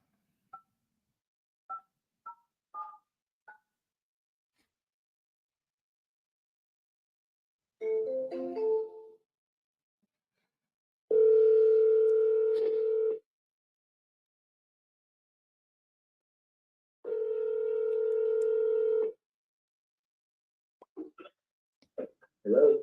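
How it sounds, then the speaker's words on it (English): An outgoing phone call: a few soft dialing blips, then two long, clear ringback tones separated by silence, heard from a phone held close, with brief faint bits at the end. "I don't know if he's going to recognize the number I'm calling from, but let's try him."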